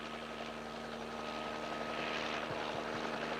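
A helicopter flies over oil fields, its engine drone steady and faint, with rhythmic rotor thumps coming through in the final second.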